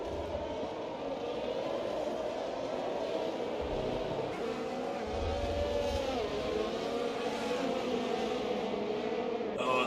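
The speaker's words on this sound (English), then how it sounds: "Formula One racing" Formula One race cars lap the Singapore circuit in an F1 racing game, with a steady, droning engine whine that rises and shifts in pitch as cars pass. The sound is continuous and moderately loud, with no talking.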